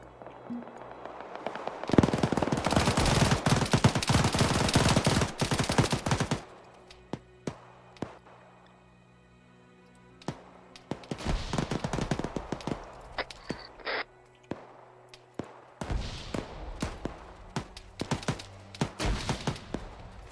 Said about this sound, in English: And I hear that BMP firing shells now.